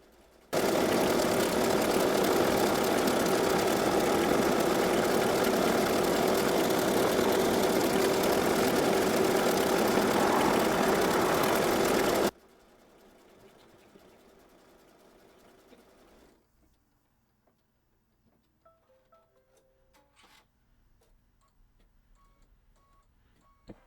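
An embroidery machine stitches quilting in the hoop on a mini notebook cover with a rapid, even, mechanical chatter for about twelve seconds, then stops abruptly, leaving faint quiet clicks.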